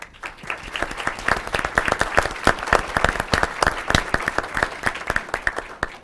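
An audience applauds at a city council meeting for a poster contest winner, with steady, moderately loud clapping from many hands lasting several seconds.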